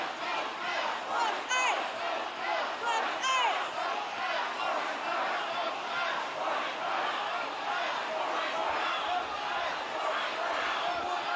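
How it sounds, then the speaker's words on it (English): Residents out in a city street cheer and shout in support of passing protesters, a rowdy crowd of voices with whoops and rhythmic calls, steady and fairly close. "People coming out of their houses now, guys, to cheer for the protesters."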